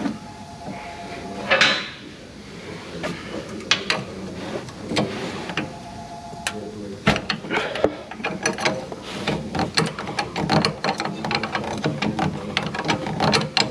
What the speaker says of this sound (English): It's 19, but we have to grab it with the adjustable wrench, Jose.